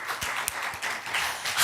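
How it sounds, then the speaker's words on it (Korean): A church congregation gives a short burst of clapping during a sermon, uneven and moderately close, rising toward the end. "하나님을 영광의 박수"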